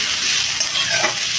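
Peanuts and chili frying in hot oil, a steady bright hiss and crackle that runs continuously, with no talk.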